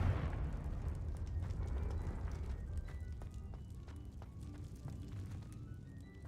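A Confringo spell in a video game goes off as a loud, rumbling fiery blast with scattered crackling bursts. It starts strongest and slowly fades over several seconds.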